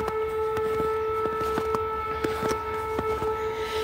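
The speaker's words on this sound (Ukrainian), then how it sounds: "Лунає повітряна тривога зараз." An air raid siren wails steadily at close range, its sustained tone holding throughout with sharp intermittent clicks over it; no one speaks.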